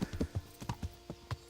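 Horse hooves clip-clop in Kingdom Come: Deliverance, a quick run of about ten crisp, evenly paced thuds close by with no voices over them.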